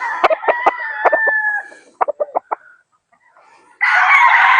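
A hen-feathered rooster at a farm in Angat, Bulacan gives loud, close clucks and a rapid series of short calls, then breaks into a harsh, noisy crow at the end.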